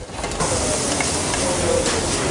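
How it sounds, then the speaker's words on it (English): Chopped celery, carrot, onion and pancetta sweat in olive oil with thyme and bay leaf in a pan for a Welsh lamb ragout, a steady, close sizzling hiss that runs unbroken throughout. "we're gonna go and sweat the veg"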